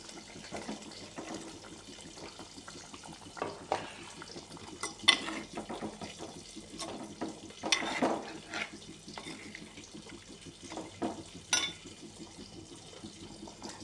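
Fish pieces go into a boiling chilli curry seasoned with chilli, turmeric and salt, giving soft bubbling with scattered splashes and clinks at close range, fairly quiet throughout, with no talking.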